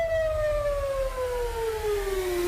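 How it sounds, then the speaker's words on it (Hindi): A single siren wails with a steady, slowly falling pitch, loud and continuous over low rumbling background noise, in Lebanon during Israeli attacks. "सायरन की आवाज काफी दूर से सुनी जा सकती थी"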